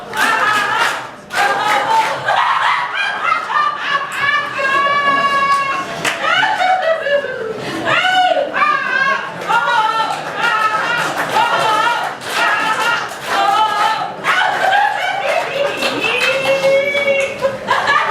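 A group claps along while chanting laughing syllables together in a lively, rhythmic session, the rapid handclaps mixing with many overlapping voices in a loud, continuous stream.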